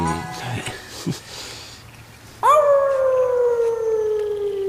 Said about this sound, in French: C'est un loup.